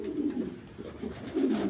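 A pair of Black Lahori pigeons coo in soft, low repeated calls, two or three throaty phrases close by and fairly quiet, with no voices.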